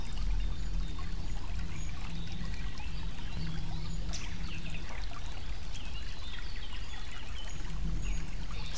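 Steady flow of water running close by, a continuous rushing, trickling wash that stays even and fairly loud throughout, with no voices.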